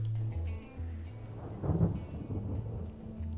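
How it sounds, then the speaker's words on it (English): Distant thunder, a soft low rumble swelling briefly in the middle of a quiet stretch under a faint steady low hum. "Distant thunder rolls by."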